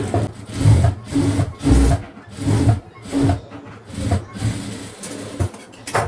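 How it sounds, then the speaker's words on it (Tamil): A sewing machine stitches a blouse sleeve with a scallop design, running in loud, close bursts of rhythmic mechanical chatter separated by short pauses. "ஜஸ்ட் நான் ஒரு தையல் போட்டுக்கிறேன்."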